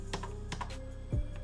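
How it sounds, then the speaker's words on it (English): Keys tapped on a computer keyboard, including the spacebar, giving a few crisp, close clicks spread across a short moment, with a slightly heavier thud near the end over a faint steady hum. "or spacebar on your keyboard."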